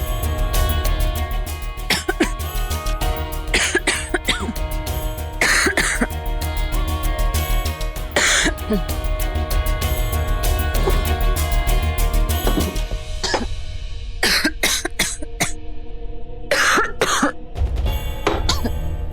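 Repeated harsh coughing fits, close and loud, in irregular bursts over a steady background hum, with short pauses between some coughs.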